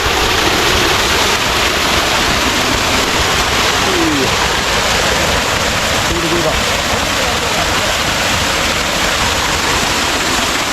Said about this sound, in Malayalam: ചൂടുള്ള വെള്ളച്ചാട്ടം കേട്ടോ.